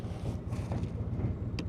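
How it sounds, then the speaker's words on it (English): A 2024 Harley-Davidson Road Glide idles at a stop, a faint low rhythmic rumble that pulses steadily beneath gusts of wind noise on the microphone. "It vibrates, the engine rumbles at stop."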